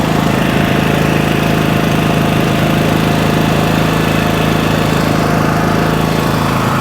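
A dual fuel 3 kW portable generator engine runs steadily at close range, a loud constant droning hum with buzzing vibration and no variation in pace throughout.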